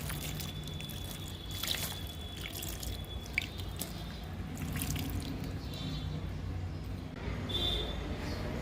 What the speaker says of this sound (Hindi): इसके ऊपर हम थोड़ा थोड़ा और पानी डाल देंगे